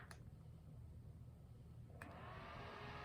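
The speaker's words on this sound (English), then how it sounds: "Oh, here's the fan." A small solar-powered fan built into a hard hat whirs steadily and quietly, its airy hum brightening a little partway through.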